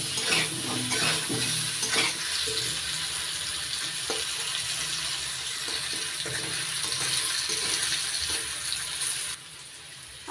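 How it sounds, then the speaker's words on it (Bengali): Potatoes seasoned with salt and turmeric sizzle steadily in a pan while a utensil stirs and scrapes through them, the frying hiss continuous and close before it drops off abruptly at the end. "দিয়ে দিচ্ছি লবণ, হাফ চামচ হলুদ, নাড়াচাড়া করে লাল করে ভেজে নিচ্ছি"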